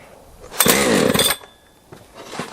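Chainsaw after refueling, started without choke at half throttle: a short loud revving burst lasting under a second, then dropping off to a faint sputter and a weaker second catch.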